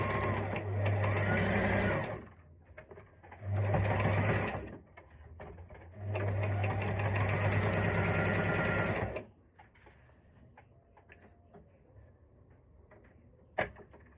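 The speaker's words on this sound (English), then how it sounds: "So we're gonna sew this, and we're gonna back stitch." A sewing machine stitches the side seam of a fabric maxi skirt, running in three close, steady bursts separated by short pauses, then stopping into faint room noise with one sharp click near the end.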